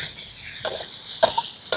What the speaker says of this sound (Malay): Goreng agak kata daging tu jadi garing sikit-sikit